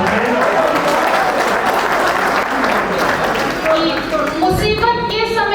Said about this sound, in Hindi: भाई जोरदार तालियां बजा दीजिए एक बार फिर से